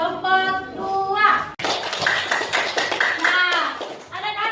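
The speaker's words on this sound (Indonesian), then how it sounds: "Tepuk tangan juga buat kelompok 2." Children in a classroom clap in a brief burst for a group's artwork, the sharp hand claps mixed with young voices chattering over and around them.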